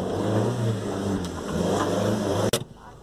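A car engine revs on a rural farm road, a steady close mid-pitched roar that rises and holds for a few seconds before a sharp thump and a sudden drop away.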